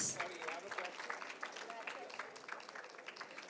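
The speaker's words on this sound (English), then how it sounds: "Can we have huge round of applause?" Applause from the audience at an architecture design event, faint and diffuse, a thin patter of clapping that stays fairly even from start to finish, with some background voices mixed in.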